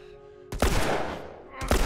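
Gunfire from The Last of Us on Grounded difficulty: two sharp, loud shots about a second apart, the first trailing into a long ringing decay before the second cracks close.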